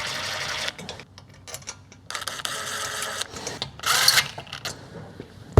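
An adjustable impact driver on its lowest setting drives screws while a Masterbuilt Gravity Series XT barbecue is assembled. It gives close, buzzing mechanical whirs in short repeated bursts, with a sharp knock at the very end.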